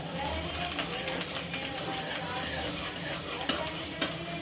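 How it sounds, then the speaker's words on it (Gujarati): Fresh chopped garlic sautés in hot oil for veg Manchurian, a soft sizzle under repeated scraping and light metallic taps of a spoon stirring the pan, close by with no talk. "સહેજ લસણ આપણે સાતળી લઈશું."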